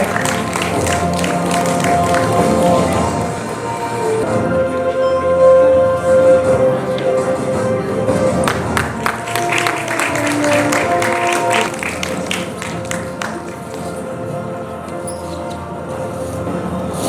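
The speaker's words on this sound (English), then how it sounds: "A huge round of applause for sir" Audience applause at an anniversary awards celebration, sustained clapping from a crowd mixed with music and background voices throughout.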